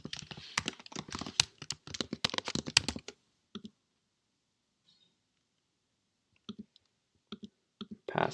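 A computer mouse and keyboard click at a desk. A dense, rapid run of sharp close clicks comes first, then silence, then a few scattered single clicks.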